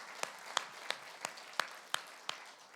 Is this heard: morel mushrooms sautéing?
no